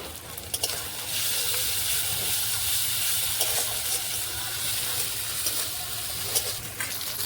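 Ginger-garlic paste, ground coriander, cumin and green chili paste hitting onions fried red in hot oil, a steady loud sizzle with occasional pops and stirring clicks, no voices.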